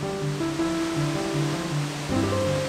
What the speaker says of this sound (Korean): 폭포네. 경치 좋네.